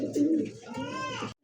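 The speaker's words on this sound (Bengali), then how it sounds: "এই মুহূর্তে স্ক্রিনে দেখতে পাচ্ছেন বিগ সাইজের খুব সুন্দর একটা কবুতর" Large Peshawari pigeons cooing close by: a single soft, rolling coo lasts about a second before cutting off into silence.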